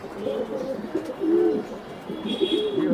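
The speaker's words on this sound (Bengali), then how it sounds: "এটা হলো জার্মান শিল একটা কবুতর।" German shield pigeons coo in soft, repeated throaty phrases close by, with a few faint chirps in the background.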